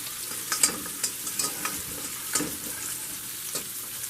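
Flour and pepper, with leftover flour from the roast, sizzle and fry in a pot for pot roast, a steady close crackle punctuated by a few sharp stirring clicks.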